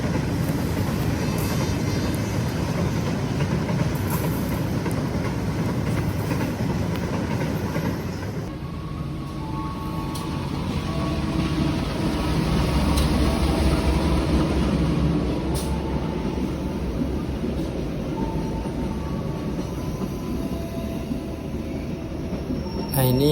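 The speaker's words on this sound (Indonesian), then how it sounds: "ini kita bersilang dengan rangkaian kereta api KTL Pertamina di stasiun Dusun" A KTL Pertamina tanker train passes at Dusun station, a loud continuous rumble of rolling wagons with clattering wheels and faint squeals, heard close from an adjacent train throughout.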